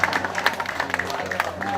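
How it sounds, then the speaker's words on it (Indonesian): Brief scattered clapping from an audience at a speech, a thin patter of hands over a steady background hum, moderately near and not very loud. "Tepuk tangan bagi yang kawin lagi."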